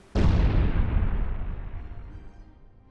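A Molotov-laden car exploding in the Gaslands game, a single sudden heavy boom that rolls off into a long, fading rumble over a few seconds.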